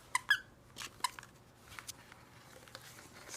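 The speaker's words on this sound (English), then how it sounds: "It squeaks." A squeaky dog toy from a subscription box squeaks in a few short, sharp bursts near the start and middle, followed by faint handling, light tapping and rustling, with no talk.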